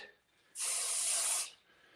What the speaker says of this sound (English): So I'm gonna use that spray.